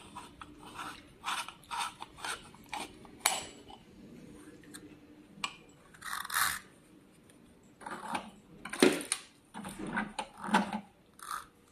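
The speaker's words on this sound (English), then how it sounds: "Use this plier to remove the screw." Metal pliers work a screw out of a lipo laser cavitation machine with a series of close, irregular clicks, scrapes and small metallic rattles spread across the clip, and no talking.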